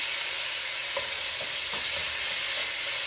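Sirloin strips for pepper steak sear in a pan over high heat, giving a steady close hiss of sizzling with a few soft stirring scrapes and no talk.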